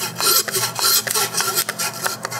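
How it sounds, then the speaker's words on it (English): Rapid rasping strokes of a hand saw grinding through pork country ribs, meat and bone, steady back-and-forth rhythm, close up and loud, no voices. "What I'm sawing through right now is the country ribs."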